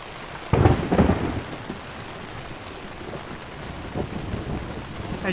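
Thunder cracks and rumbles through a heavy downpour at a swag bushcraft campsite, a loud close boom followed by rolling rumbles over steady rain drumming on the ground and canvas, with no wind.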